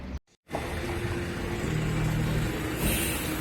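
A car on the road from Tbilisi toward Kazbegi gives a steady engine and road rumble after a brief dropout at the start, with a faint hum running underneath and no talk.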